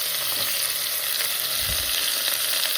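Vegetables fry in oil with cumin and mustard seeds for pav bhaji, giving a brief, loud, steady sizzle close up with a dull stirring thump.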